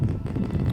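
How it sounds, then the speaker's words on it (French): Wind buffeting a microphone outdoors, a steady low rumbling roar filling the whole short moment with no other sound. "Je suis désolé pour le vent."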